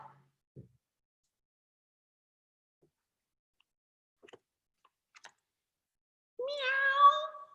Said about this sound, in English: meow, meow, cried the cat